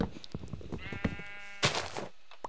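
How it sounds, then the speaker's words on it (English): Sheep in Minecraft bleat in a few short, nasal, wavering cries, close and clear, with brief gaps and a couple of soft clicks between calls. "I'm sick of hearing you, sheep."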